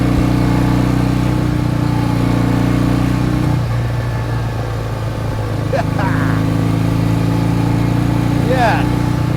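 A 1967 BSA Spitfire Mk III twin-cylinder motorcycle climbs a steep hill in third gear. Its engine drones loud and close at a steady pitch, dips briefly partway through, then picks up again.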